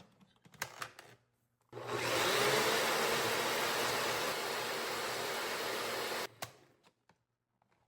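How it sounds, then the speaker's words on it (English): A blender whirs for about five seconds, mixing eggs with milk, salt, pepper, Italian seasoning and garlic powder, a loud close roar starting and stopping abruptly, with quiet kitchen clatter before and after. "So now we're going to go ahead and blend."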